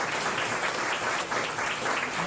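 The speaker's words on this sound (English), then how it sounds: "Can we give him a round of applause?" An audience at a chamber of commerce event claps in a round of applause, a steady dense patter of many hands filling the whole stretch at even loudness.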